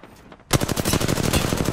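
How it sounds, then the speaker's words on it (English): Rapid automatic gunfire in Apex Legends begins abruptly after a brief quiet lead-in, then runs as a steady, loud stream of close shots. "Shots fired."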